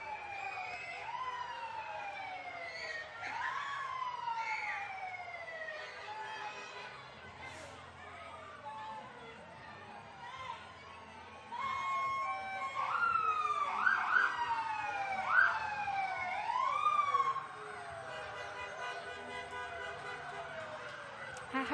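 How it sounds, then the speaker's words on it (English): Fire and EMS vehicle sirens pass in a Christmas parade, several overlapping wailing and yelping sirens sweeping up and down at a moderate distance, growing busier and louder toward the end. "I heard the sirens. I was trying to wait till I could see them."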